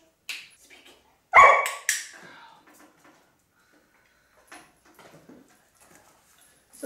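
A poodle assistance dog barks on command indoors: two sharp, close barks in quick succession, then near quiet with faint handler voices and small movements.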